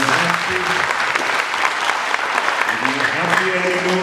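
Crowd at an interfaith youth forum clapping to show happiness, a dense round of applause from many hands, loud and sustained, with voices talking over it.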